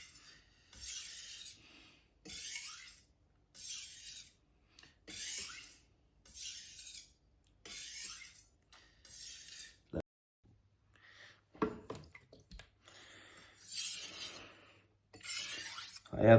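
A Wusthof santoku knife drawn across an Ancient Ocean Jasper sharpening stone, giving about eight steady, evenly spaced rasping strokes, close and fairly quiet, followed by a few sharper scrapes and knocks.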